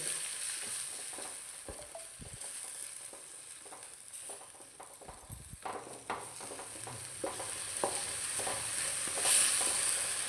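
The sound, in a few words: ginger garlic paste frying in a pan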